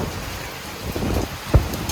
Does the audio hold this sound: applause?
no